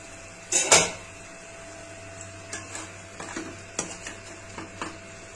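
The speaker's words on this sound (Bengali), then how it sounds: "একটু নেড়ে দিলাম, নেড়ে দিয়ে ঢাকা দিয়ে দিলাম, তাহলে টমেটোগুলো একটু মজে আসবে" A spoon stirs tomatoes in a pan while a Bengali tilapia mustard curry cooks, giving a loud scrape near the start and then soft, scattered stirring knocks over a faint sizzle, with no talking.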